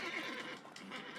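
Roach the horse neighs in The Witcher 3: Hearts of Stone, a clear, fairly close whinny that rises and falls briefly on its own, with no speech over it.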